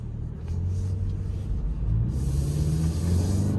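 A 2022 Toyota Sienna XLE AWD van accelerating uphill in normal mode at about three-quarter throttle, a steady low engine and road rumble that holds loud throughout with a slight rise in pitch, no talking.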